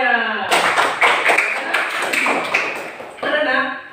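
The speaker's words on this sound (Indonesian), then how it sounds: "Tepuk tangan untuk semuanya." A small group claps in brief rhythmic bursts after a school presentation, sharp close hand claps between stretches of talk at the start and end.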